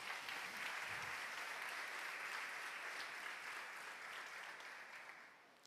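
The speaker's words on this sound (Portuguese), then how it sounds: "Você pode aplaudir o Senhor?" Church congregation applauding during a celebration worship service, steady dense clapping that fills the space throughout and tapers slightly toward the end.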